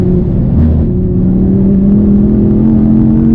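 An Audi R8 sports car driven on a race track, loud engine drone heard from inside with pitch gradually rising as it accelerates, steady and close.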